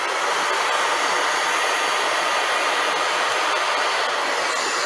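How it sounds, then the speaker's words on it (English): A handheld blow dryer at a beauty show runs on medium heat, giving a loud, constant airy whoosh that fills the clip without a break and with no voices over it. "what we're going to do is run this blow dryer parallel and push"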